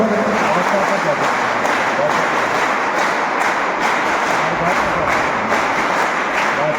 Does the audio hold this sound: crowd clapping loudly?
yes